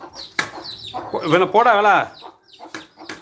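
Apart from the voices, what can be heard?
brooding hen and chickens clucking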